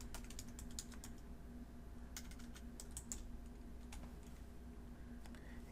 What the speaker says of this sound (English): We will begin to type here /bin /bash